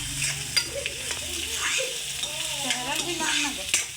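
Fenugreek greens fry in a pan and are stirred with a spoon, giving a soft, continuous sizzle broken by scraping strokes and light clinks.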